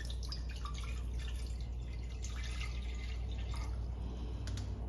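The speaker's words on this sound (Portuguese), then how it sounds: "a água na panela" Water pours into a cooking pan for rice pudding, a steady close splashing and trickling that runs continuously without any voices.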